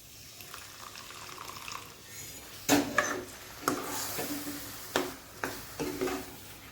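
Water goes into a spicy drumstick curry cooking in a pan, a low sizzle and bubbling broken by several sharp clanks and scrapes of a spoon mixing, close and with no talk.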